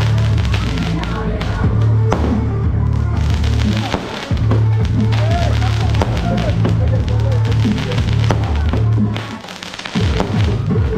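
Firecrackers go off at a Ganesh festival celebration, sharp bangs and thuds popping repeatedly over a steady low droning hum and a loud, busy crowd background.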